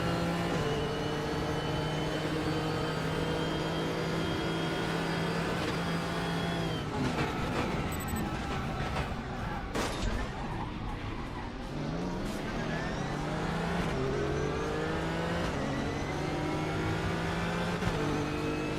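GTR race car engine in RaceRoom, revving hard with rising and falling pitch through gear shifts, loud and continuous in-car, with other cars nearby.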